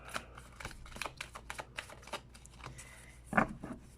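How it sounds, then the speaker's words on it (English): A deck of tarot cards being shuffled by hand, a soft papery riffle of repeated flicks and taps close by, quiet overall with one sharper slap near the end. "You can shuffle it as much as you want"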